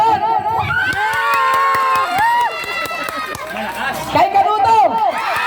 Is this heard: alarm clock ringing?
no